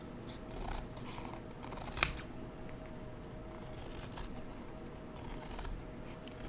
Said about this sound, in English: now I'm just going to cut these strips